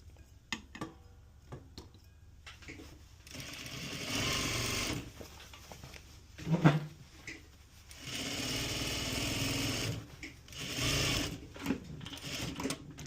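A straight stitch sewing machine hems a pair of pants, running in several steady whirring bursts of a few seconds each, close and loud, separated by quiet handling and light clicks.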